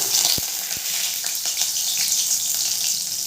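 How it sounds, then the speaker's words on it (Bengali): Two bay leaves dropped into hot mustard oil in a pan while cooking Bengali mochar ghonto, giving a steady hiss and sizzle with a couple of sharp clicks near the start, close and moderately loud. "সর্ষের তেলটা গরম হয়ে গেছে। এরপরে দিয়ে দেবো দুটো তেজপাতা"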